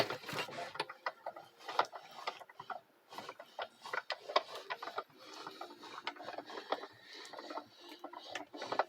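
A hand-cranked die cutting machine feeds wallpaper through its rollers, giving a quiet, steady stream of ratcheting clicks and mechanical creaks with an uneven cranking rhythm, close but faint.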